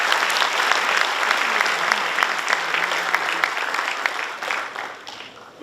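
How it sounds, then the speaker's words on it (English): Hall audience at a university event gives loud, sustained applause, a dense steady clatter of many hands that tapers slightly near the end. "Give another huge applause to him."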